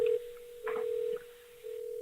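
A telephone tone during a call that nobody answers: a steady single-pitch tone holding close and clear with brief dips in level, and no voices over it.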